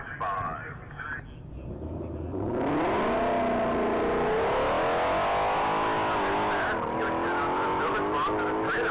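A 2020 Mustang GT500 race car at a top-speed mile event accelerates hard, its engine note rising and sustained loud after a quieter start, with an announcer talking over it.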